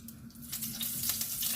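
Quiet, even sizzling crackle of butter heating in hot oil in a pan, steady and faint with a low hum underneath, no talking.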